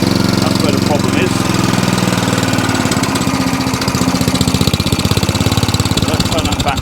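Qualcast Suffolk Punch 14sk cylinder mower engine running steadily close up, a loud continuous petrol putter with a fast even firing rhythm, while the roller and blade stay still.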